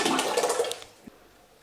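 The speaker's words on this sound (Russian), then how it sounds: "Вешаем, а сыворотка стекает" Whey drains from a hanging cloth bag of heated homemade goat milk curd in a brief rushing stream that fades within a second into near quiet.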